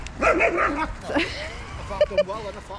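At a puppy training class with a Jack Russell and a spaniel, dogs let out sharp, close yips and short barks in quick bursts. A few spaced high cries follow.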